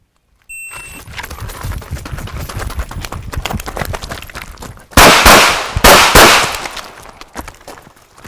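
Several sharp gunshots ring out during a moving-target shooting drill, a couple of loud cracks in quick succession standing out over steady rustling and movement noise near the microphone.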